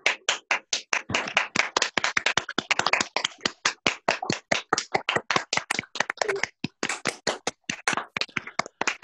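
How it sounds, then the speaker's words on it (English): Online theatre festival audience clapping at a curtain call, a steady run of close, crisp individual hand claps repeating rapidly for several seconds with no talk. "Audience members, applaud."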